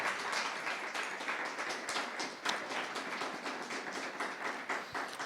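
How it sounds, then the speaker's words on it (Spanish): Congregation in a Spanish-speaking church clapping for the Lord during a sermon: steady, dense applause from many hands, fairly loud and sustained for several seconds with a few sharper claps standing out. "Dele un aplauso al Señor."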